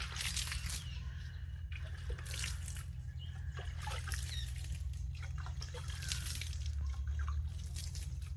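Light sprinkles of water fall over sown amaranth (thandu keerai) seeds in garden soil, producing a steady, close dripping and trickling patter over a constant low background hum.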